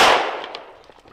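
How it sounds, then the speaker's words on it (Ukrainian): A single sharp gunshot crack bursts out at once, then its echo tails off and fades over about a second. "Я стріляю."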